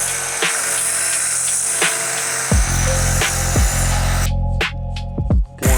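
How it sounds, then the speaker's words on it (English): A loud whirring power sander grinds continuously with rhythmic pulsing strokes against a handmade swimbait body, close by, stopping briefly near the end. "now we just gotta clean this up and start sanding it down"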